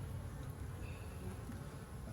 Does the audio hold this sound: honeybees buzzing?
yes